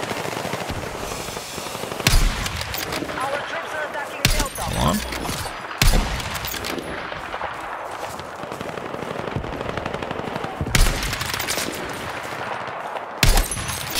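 Gunfire in the video game Battlefield 6, sustained automatic weapon fire with dense crackling bursts and sharper individual shots spaced every couple of seconds, loud and continuous throughout.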